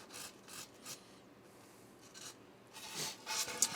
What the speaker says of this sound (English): we can just keep going with the sander